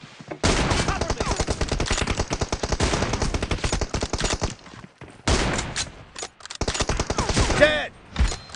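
Rapid automatic gunfire from a shooting video game crackles loudly and almost nonstop in long sustained bursts, broken by a brief pause and then more rattling volleys.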